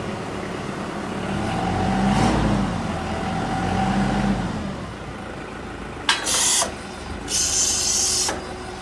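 Engine of an RY KAT C30 diesel forklift running steadily while the forks lower, a close, loud drone with a hydraulic whine, followed by short bursts of hiss near the end.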